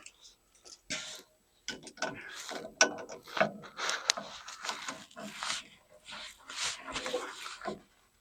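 Rapid clicking ratchet wrench tightening driveshaft center support bearing bolts on a Toyota Tundra, in short bursts of clicks with brief pauses between, close and fairly quiet.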